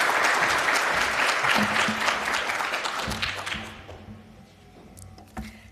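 A crowd at the 2024 Dairy Summit gives Governor Evers a loud round of applause that holds for a few seconds, then thins out and fades to a few scattered claps.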